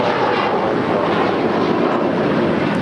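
A steady, broad roar from a jet airliner taking off from runway 25 right at LAX, heard from a distance as a constant engine rumble and rush, with wind noise across the microphone.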